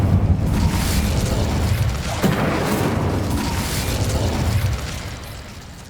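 Spell blasts from Confringo and Incendio in the Hogwarts Legacy video game, a sustained roar of booming bursts and crackling fire, loud at first and easing slightly toward the end.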